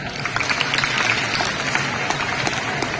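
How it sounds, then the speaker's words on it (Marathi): Audience applauds loudly at a spiritual discourse gathering, dense rapid clapping from many people sustained evenly for a few seconds, close and full. "जोरात टाळ्या."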